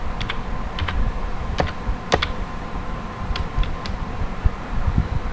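Rapid keystrokes on a computer keyboard, with sharper Enter-key presses standing out, close and clear over a soft fan hum, no talk.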